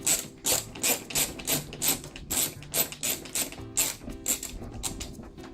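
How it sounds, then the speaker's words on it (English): Ratcheting screwdriver clicking as it backs a screw out of a Soleus air conditioner housing, a steady series of close, crisp ratchet bursts in an even rhythm, with no talking. "It's nice to have a little bit of a ratcheting mechanism on there, on this screwdriver."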